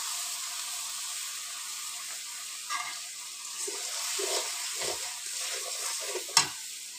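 Mourala fish frying in oil with turmeric, salt and chili paste gives a soft, steady sizzling hiss, fairly quiet, with a few light stirring knocks and one sharper clink near the end.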